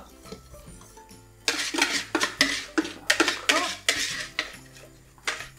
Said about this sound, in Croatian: idemo ovu žutu smjesu lijepo ukuhati. Uz miješanje naravno.